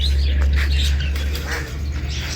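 Poultry in a backyard bird enclosure chirp and squawk steadily during feeding, over a constant low hum, with no talking.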